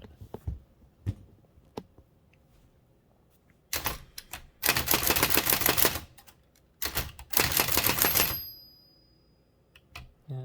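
Typing on a Hammond Multiplex typewriter: a few isolated key strikes, then two dense bursts of rapid mechanical clacking and rattling, close and loud, ending with a short metallic ring.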